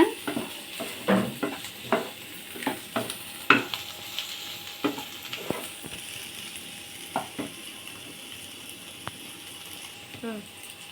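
Prawn curry masala with coriander frying in a pan, sizzling softly beneath a string of sharp scraping stir strokes and the occasional clink of the spoon against the pan.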